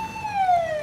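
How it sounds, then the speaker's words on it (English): A single short wail of an emergency siren, rising and then falling in pitch, sounds clearly amid the aftermath of the 2011 Japan tsunami. "The despair of the moment is shattered by sirens."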